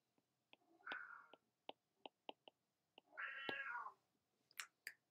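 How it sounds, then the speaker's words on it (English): A pet cat meows twice in long drawn-out complaints, close by in a quiet room, with sharp clicks and taps in between. "My cat is complaining."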